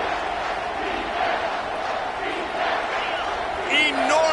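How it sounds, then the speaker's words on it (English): A packed football stadium crowd at a Texas versus South Carolina game roars steadily on third down, a dense, sustained wall of noise with swelling cheers and a few whistles near the end. "this crowd is bringing down the house."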